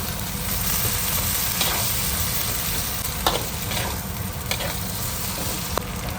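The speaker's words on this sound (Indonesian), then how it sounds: "Dan kita pun masukkan paste kari kita nih ya. Dan kita pun gaul." Potatoes being stirred into curry paste in a hot frying pan: a loud, continuous sizzle with scraping stir strokes and occasional sharper clacks of the utensil, heard close and without talk.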